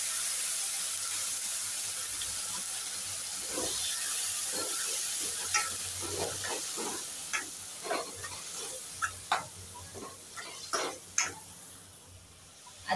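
Tomato puree with ginger garlic paste bubbles and sizzles quietly in a pan, a steady low hiss that later picks up scattered stirring clicks and spatters growing louder toward the end, with no talking.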